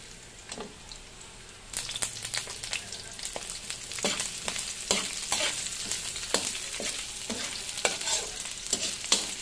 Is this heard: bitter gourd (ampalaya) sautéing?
yes